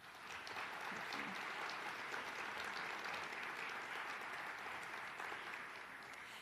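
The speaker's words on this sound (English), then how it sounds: "Please give them a round of applause" An audience at a panel event applauds in a sustained, even burst of clapping that fills the whole stretch and fades only slightly toward the end.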